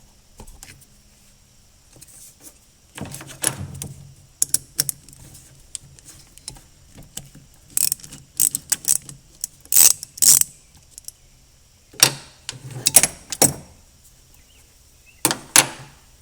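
Hand wrench loosening the negative battery terminal nut on a 1979 Porsche 928, heard as scattered close ratcheting clicks and small metallic taps in short clusters with quiet gaps.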